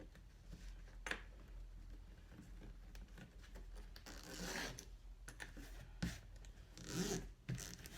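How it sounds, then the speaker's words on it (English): A zipper head is fitted onto a 13-inch length of purple zipper for a sewing project, heard as faint rubbing, scraping and small clicks with a few brief louder zips, quiet and close. "Get my zipper head put on here."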